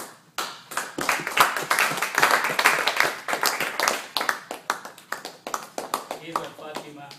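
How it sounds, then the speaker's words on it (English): A warm round of clapping greets a woman being introduced to an audience: dense, sharp hand claps that rise and fall, with voices talking over them throughout. "Please welcome her, Isra, with a warm applause."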